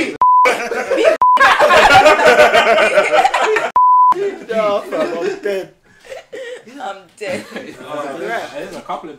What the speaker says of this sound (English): There's a couple of beeps, you know.